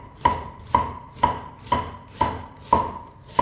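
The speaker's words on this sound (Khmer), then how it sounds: "បារាំងមួយមើមនេះយើងមកហាន់វាឲ្យស្ដើង" A knife slices an onion thinly for a beef tendon stew, seven crisp, evenly spaced chops striking a board about twice per second, close and clear with no voices.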